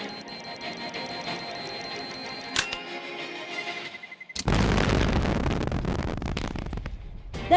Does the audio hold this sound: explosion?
yes